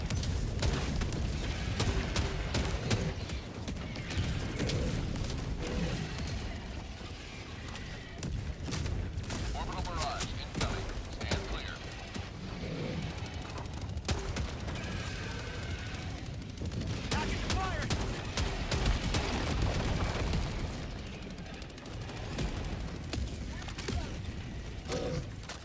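The Halt shotgun fired in the game Helldivers 2, repeated sharp blasts and mechanical pump and reload clacks scattered over about twenty-five seconds amid battle noise, with a voice talking over much of it.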